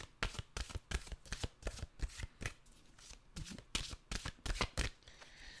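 Tarot-style mantra cards being shuffled by hand in a quiet room: a quick run of crisp riffling bursts, about a dozen sharp flutters in steady rhythm, close and clear with no talking.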